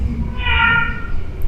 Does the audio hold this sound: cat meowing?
yes